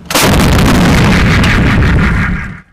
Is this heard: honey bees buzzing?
no